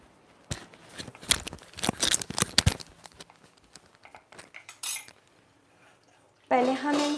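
Mango suji cake ingredients being mixed in a bowl, a busy run of metal spoon clinks, scrapes and rattles against the dish, then quieter handling and a brief louder scrape near the end, with no speech.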